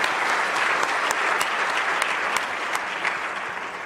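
A full audience gives a steady round of applause for panelists at a high-level discussion on tertiary education. The clapping is loud, dense and continuous, with occasional sharper claps near the front.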